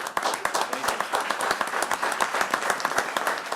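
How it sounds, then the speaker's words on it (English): Applause at a county public meeting: a crowd claps steadily with scattered sharp individual claps, fairly near, with faint voices underneath. "Let's have a round of applause for it."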